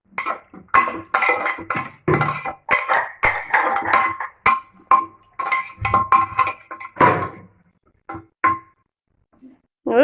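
A potato curry seasoned with salt, red chilli powder and sugar is stirred in a metal pot. Ringing clinks and scrapes of a spoon against the pot come in quick, irregular bursts, then thin out to a few taps near the end.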